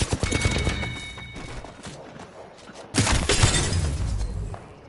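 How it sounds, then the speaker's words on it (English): Gunfire in the Apex Legends video game comes as rapid crackling bursts of shots, one volley early on and a louder, denser one near the end, with quieter game noise in between. "there's someone else shooting from another area"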